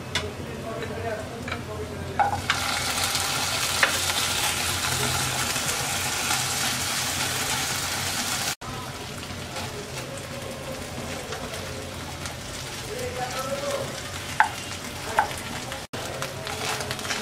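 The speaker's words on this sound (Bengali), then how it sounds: "এবার আমরা শুটকিটা ভেজে নেব।" Dried fish (chapa shutki) frying in a pan beside garlic and chillies, a steady loud sizzle and crackle up close, with occasional spatula scrapes and taps breaking through.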